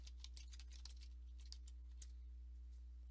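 Rapid, uneven keystrokes on a computer keyboard, quiet and fairly close over a low steady hum, clustered in short bursts with brief pauses.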